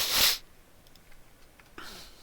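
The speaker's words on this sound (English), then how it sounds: "Sorry about the sniffles" A person with the sniffles gives a short, close nasal sniff, a pause, then a second fainter sniff in a quiet garage.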